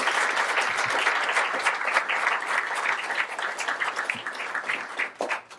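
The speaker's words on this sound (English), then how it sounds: "please join me in a round of applause for those sponsors and donors" Dense, sustained applause from a gala audience for sponsors and donors, many hands clapping together in a loud even wash that gradually loosens and tapers off at the close.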